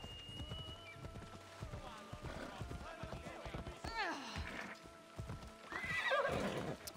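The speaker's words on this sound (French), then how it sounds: "On a un cheval en feu." A horse in Assassin's Creed Odyssey whinnies twice over a run of quick clip-clopping hooves on hard ground, close and fairly loud, with someone speaking over the game sounds.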